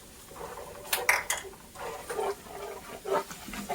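A spoon stirs biscuit gravy in a pan with soft, irregular scraping and clinking in short bursts, close by, and no one speaks.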